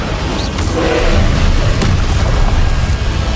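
The Incendio fire spell from Hogwarts Legacy erupts in a sustained, booming whoosh of flame, loud and close, swelling and rumbling for several seconds without pause.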